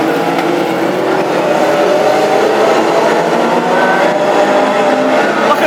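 Classic hot rod race cars at the Hednesford Bill Morris Memorial English Open Final roar past on the oval track, a loud continuous blend of engines droning and revving with no pauses.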